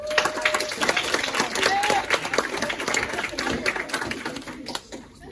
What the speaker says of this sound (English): let's just get another round of applause real quick